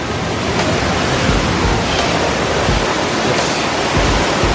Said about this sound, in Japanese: ちょっと滝の音でちょっと雑音がすごいかもしれないけど